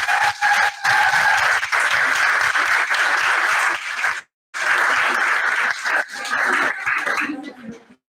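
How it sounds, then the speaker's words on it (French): Sustained applause from a graduation ceremony audience for a special education and primary teaching diploma, loud and dense, broken by a brief pause near the middle before another long round of clapping that fades at the end. "merci pour les applaudissements pour Laurent Steyer."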